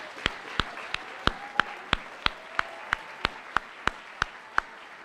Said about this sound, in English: please join me in giving one more round of applause for all of our students